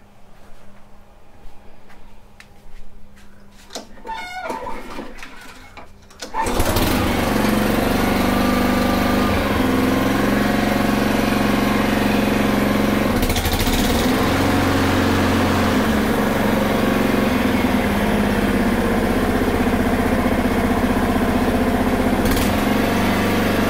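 A Honda lawn mower engine with a bad carburetor starts after some faint handling noises, then runs loud and close for the rest of the clip with a rough, uneven idle and no talk.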